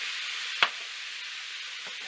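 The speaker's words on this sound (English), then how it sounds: "Give that another good stir here." Seasoned ground meat sizzling steadily in a frying pan for stuffed bell peppers, with one brief scrape of a stir near the start and another faint one later, close and continuous.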